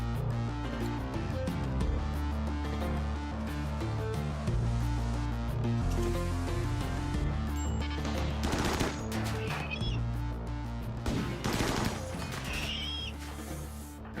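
Combat gunfire in the colony game RimWorld, bursts of shots and impacts crackling under continuous background music throughout.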